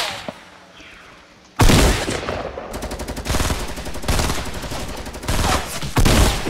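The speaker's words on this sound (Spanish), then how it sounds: "Veo que por acá están disparando." Bursts of rapid automatic gunfire and single shots from a Fortnite match, loud and dense after a quiet opening, firing in clustered volleys with brief gaps.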